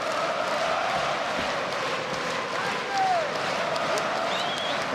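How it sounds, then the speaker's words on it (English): A large arena crowd at a UFC fight in the Ericsson Globe roars as a steady wash of cheering, with occasional whistles rising above it while a commentator talks. "The crowd really getting behind their man here at the Ericsson Globe Arena"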